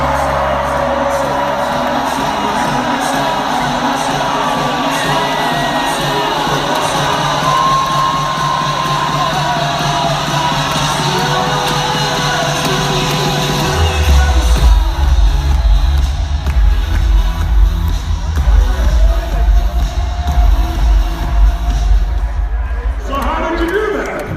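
Large seminar audience in their chairs shouting, whooping and cheering in a continuous loud roar of excited voices, swelling heavier with stomping and movement partway through.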